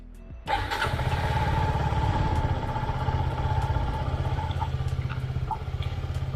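A Suzuki Gixxer SF 250 motorcycle engine starts and runs, settling into a steady, throbbing rumble as it is held at higher revs around 4000 RPM, loud and close with no talking.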